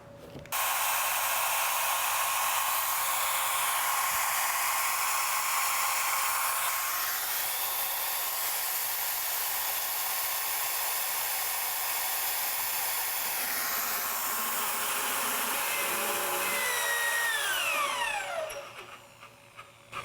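A drill bit held by a six-axis robot cuts into a workpiece with a steady, loud, high-pitched whine that holds for about seventeen seconds, then winds down to a stop.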